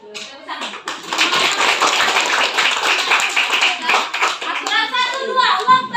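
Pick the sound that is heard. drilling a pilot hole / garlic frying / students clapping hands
students clapping hands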